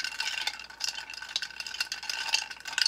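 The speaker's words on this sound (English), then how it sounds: "Then I'm just going to stir this up." A cocktail stirred with ice in a mixing glass, with rapid, light clinking and rattling of ice cubes in a continuous close swirl, no voices.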